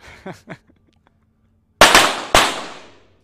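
Two sharp, loud pistol shots crack in quick succession at a 25m para shooting competition, each with a short echoing decay. A brief bit of faint talk comes first.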